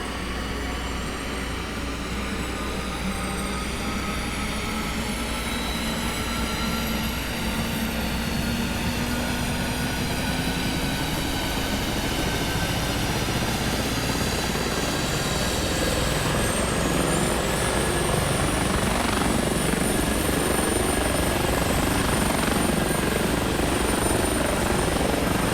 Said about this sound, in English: It's a nice little helicopter. So here we go. The engines are starting up.